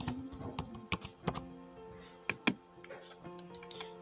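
Keys clack on a computer keyboard as an Aadhaar card number is entered during an online MP Police PEB registration, a run of irregular close taps with a few louder strokes over a faint background hum.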